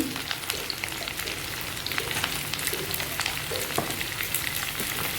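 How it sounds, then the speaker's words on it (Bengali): Potatoes go into a hot kadai already holding cauliflower and panch phoron spices, setting off a steady, dense sizzle of frying that runs throughout with light stirring scrapes. "আলু দিয়ে দিচ্ছি"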